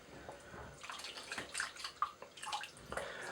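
Water splashes and drips close by as a face is wetted at a sink before a double-edged shave, with soft irregular splashes, faint and alone.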